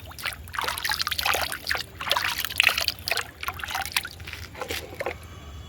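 Clear water trickling and gurgling in uneven bursts, fairly close and moderately loud, with brief splashy surges throughout and no voices.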